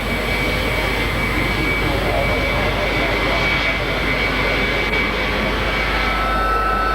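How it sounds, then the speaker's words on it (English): A vintage aircraft passing over a military air base airshow, a loud sustained engine roar with a steady drone that holds throughout, while a commentator talks over a public address. "The vintage and veteran aircraft display spans over 60 years of aviation history"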